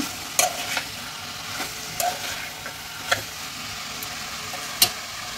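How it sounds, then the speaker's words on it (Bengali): Bottle gourd stir-frying with spices in a pan for Bengali lau chingri, a continuous low sizzle broken by sharp spatula scrapes and clicks every second or so, close and fairly loud, with no voices. "এইভাবে নেড়ে আমি কিছুক্ষণ মশলার সঙ্গে লাউটা ভেজে নেব।"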